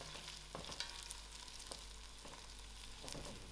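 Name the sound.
stirring lamb noodle sauce with thyme in pan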